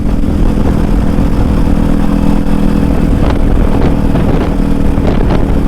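A Kawasaki Ninja 400 motorcycle ridden fast, its engine drone loud and continuous with heavy wind rush buffeting the microphone throughout.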